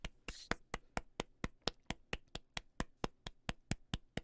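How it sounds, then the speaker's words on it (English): Hands clap in a steady, evenly spaced rhythm, roughly four crisp claps a second, close and clear with no talking, like someone counting in with claps. "Let's clap it in."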